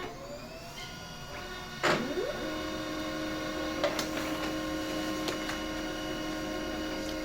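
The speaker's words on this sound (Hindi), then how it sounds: "तो चलिए अभी प्रिंटर ऑन हो चुका है, अभी एक ज़ेरॉक्स करके देखते हैं।" A Pantum M6518 printer runs while making a photocopy, producing a steady mechanical hum with sharp whirring sweeps and clicks from its feed mechanism.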